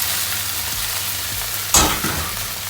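Vegetable noodles stir-frying in tomato sauce, a constant loud sizzle with a sharp clatter of utensil against pan near the end, close and without voices.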